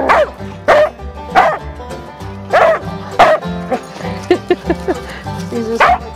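A dog barks excitedly while playing in the snow, giving a close, loud run of repeated barks and sharp yips in uneven bursts, with a few whimpers between them.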